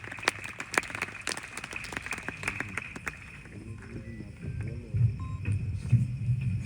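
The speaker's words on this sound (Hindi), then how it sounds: "जोरदार तालियों से आप सभी आपका अभिनंदन करें।" Scattered, uneven hand claps from an audience at the opening of a Vedotsav 2025 lecture series ring out over a few seconds, then thin out as a sustained tonal sound takes over.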